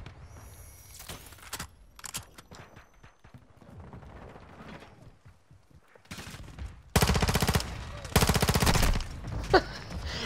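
Gunfire in Call of Duty Modern Warfare II on the Shipment map: scattered clicks and shots give way to loud, fast automatic bursts in the second half, with faint voice in the background.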